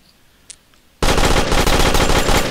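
Automatic gunfire in the video game Lifeless erupts after a second of near silence, a loud, dense, rapid burst that continues without pause to the end.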